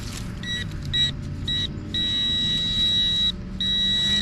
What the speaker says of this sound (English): Oh, and a weird beep.